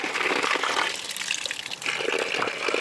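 Spring water gushes out of a pipe at a gravity-fed ram pump collection setup. The close, steady rush swells and eases as the flow pulses.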